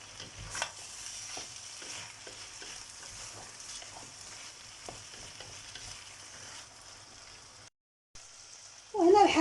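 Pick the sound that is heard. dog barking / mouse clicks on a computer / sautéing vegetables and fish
sautéing vegetables and fish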